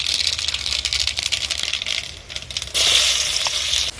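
Mustard seeds crackle and pop in hot oil with a steady sizzle, then shallots are added for sambar, rapid irregular pops close by, the hiss swelling louder toward the end.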